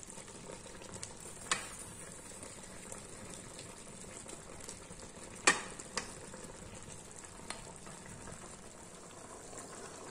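Chicken fries in a pan with a soft continuous sizzle, punctuated by a few sharp clinks and scraping stirs of a utensil against the pan.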